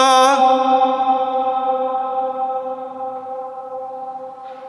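A long, ringing reverb tail hangs inside a disused railway tunnel on the old Great Central mainline near Wortley and Penistone. Sustained tones fade slowly over several seconds, with no talk.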